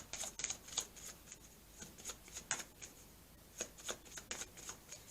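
A deck of large playing cards is handled and shuffled up close, giving soft, irregular riffling and flicking bursts against a quiet background.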